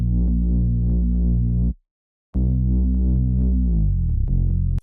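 A Drones of Dune bass one-shot sits in a bouncy beat, playing deep sustained bass notes. The line cuts out for a brief silent gap, then returns and glides into slide notes at the end.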